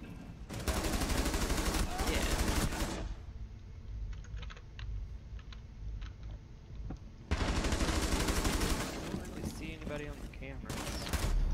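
Assault-rifle fire in a video-game gunfight comes in two long dense bursts of rapid shots separated by a quieter stretch, loud and close, with a voice talking briefly.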